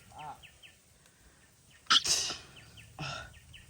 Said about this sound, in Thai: จามาทุกคนผมเนี่ยไม่ค่อยสบายนะทุกคนนะ